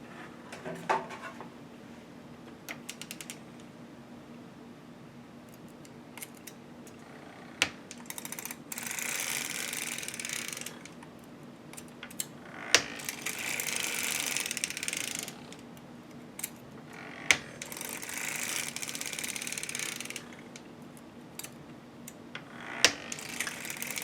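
A circular sock machine works heel decreases, giving a steady mechanical clatter of needles and cams in rhythmic bursts, with quieter pauses and occasional sharp clicks.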